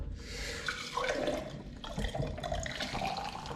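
Water poured from a garrafon jug dispenser in a Mexico City home, a continuous close splashing stream with a gurgle, alone without talk.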